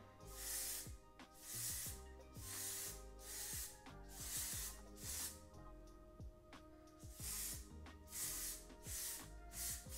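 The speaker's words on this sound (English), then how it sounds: "Just gonna spray kind of through these a little bit." Repeated short hissing bursts of hair thickening spray, roughly one per second, over steady background music.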